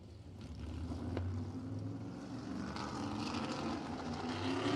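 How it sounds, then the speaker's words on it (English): A race car engine at Anderson Speedway during Little 500 pole day qualifying, a steady loud drone that rises in pitch as the car accelerates down the straight, with no voices. "You hear him punch the throttle on it, and down the back straight he went."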